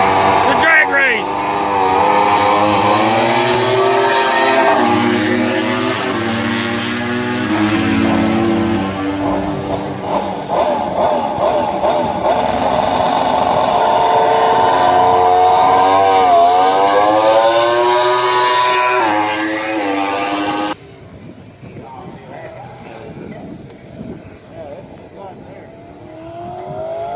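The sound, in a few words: MotoGP racing motorcycle blasting past on track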